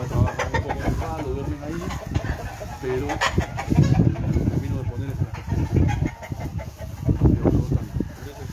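Fighting roosters kept in preparation for cockfights cluck and call repeatedly from close by, with a voice talking over the birds throughout.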